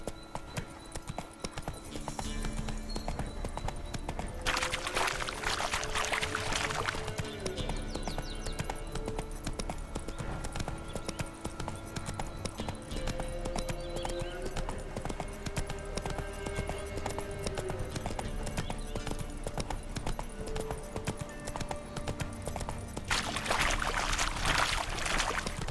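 Roach, the horse in The Witcher 3 video game, gallops with steady, rapid hoof clip-clops that run throughout, backed by a constant bed of game ambience and a few brief bursts of brighter noise.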